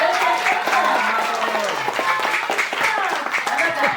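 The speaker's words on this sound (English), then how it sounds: "Round of applause for" A classroom group gives a round of applause, a loud, busy patter of many hands lasting several seconds while voices talk and call out over it.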